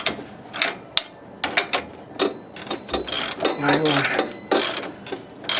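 A wrench ratcheting as a shock absorber is tightened on a 2001 Camaro Z28, rapid clicking bursts up close with metallic clanks, while someone speaks briefly.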